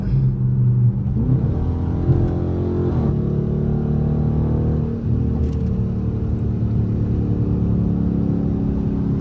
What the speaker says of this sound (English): Here's the exhaust with the windows up